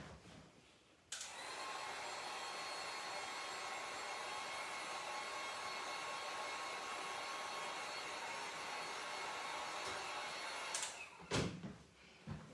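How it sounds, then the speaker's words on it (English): A hair dryer blows at a steady, loud whoosh for about ten seconds, switching on abruptly and cutting off near the end, followed by a few knocks. "Let me hit this with the dryer real quick so I can set it down."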